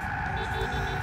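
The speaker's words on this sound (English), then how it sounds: "It's a horn." A car horn blares in Gran Turismo 6, a steady, buzzy tone held without a break for the whole second, with engine rumble underneath.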